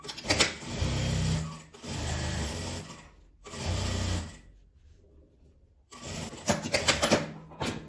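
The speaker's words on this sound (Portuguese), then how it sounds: "Agora eu vou virar e vou passar uma costura em volta dele todinho pra prender" A sewing machine runs a seam around a fabric piece in four close, buzzing bursts with a rattling rhythm, interrupted by a quiet pause of nearly two seconds before the final run.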